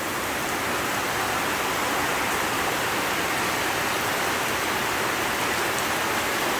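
A tropical downpour in the Philippines roars steadily, a thick wall of close, loud rain on surfaces that stays constant from start to finish with no talking.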